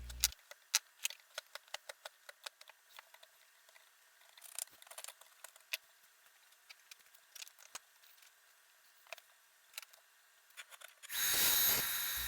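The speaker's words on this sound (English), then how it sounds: "Here I'm chiseling out a slot in the shape of the tang so that it'll fit in perfectly." A chisel cuts a slot for a sword tang into a wooden handle, giving irregular sharp taps and scraping knocks at close range. A loud burst of noise comes at the end.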